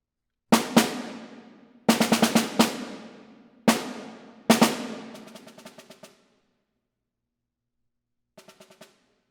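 A snare drum line is played with downstrokes in short bursts of rapid strokes, each burst decaying. The line grows softer toward the edge of the head, with a faint final group after a pause.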